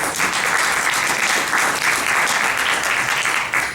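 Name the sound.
audience applause for the panel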